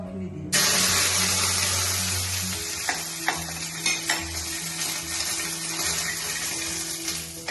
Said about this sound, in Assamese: কেৰাহীত তেল দি দিছোঁ। দি এতিয়া মই প্ৰথমতে নৰসিংহৰ পাতখিনি দিম।